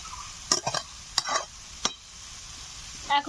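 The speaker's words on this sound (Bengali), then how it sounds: "তিন 4 মিনিট আমি একটু হালকা করে কষে নিই। ভাজা ভাজা হয়ে গেছে একদম।" Spatula stirring steamed broccoli with fried fish in a curry masala in a pan, a few separate scraping strokes over a faint steady sizzle, fairly close, no talk.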